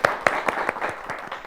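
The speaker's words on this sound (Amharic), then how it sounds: "አጨብጭቡላት" A small audience in a children's television studio applauds a student with sparse, uneven hand claps, roughly eight distinct claps over a second and a half, fairly close and without talk.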